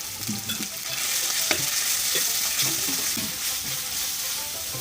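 Cumin paste with onion and garlic paste fries in soybean oil in a wok, a steady loud sizzle close by, broken by repeated soft scraping stirs, with no speech.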